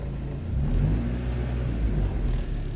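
A D16-swapped 1991 Honda Civic EF idling right after its first cold start, a steady low engine rumble close by with slight rises in revs.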